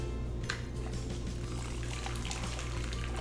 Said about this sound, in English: I'm going to strain the stock right into a bowl, pouring away from myself, just right through a colander.